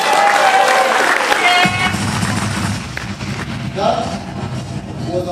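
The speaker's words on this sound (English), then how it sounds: "Let's clap for them." Graduation ceremony audience clapping together, a dense wash of applause with scattered cheers that swells at first and then carries steadily through the whole stretch, loud and close.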